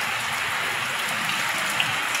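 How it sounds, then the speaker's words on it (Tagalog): Steady rain falls outdoors, a dense even hiss with scattered droplet taps running continuously, moderately loud and with no voices over it. "gaulan man ni"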